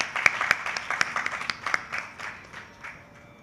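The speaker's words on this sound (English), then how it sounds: "So big round of applause for Dr. Mamidi Harikrishna." An audience at a live classical arts concert gives a round of applause for Dr. Mamidi Harikrishna, a small crowd's sharp, distinct claps close by, starting brisk and thinning into scattered, fading claps toward the end.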